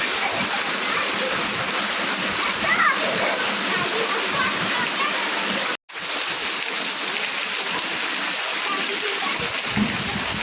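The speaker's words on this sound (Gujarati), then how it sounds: "બહુ વરસાદ આવી ગયો છે આજ" Heavy monsoon rain pours down outdoors with water rushing through the street, a loud, dense, unbroken hiss and splatter with a brief dropout midway.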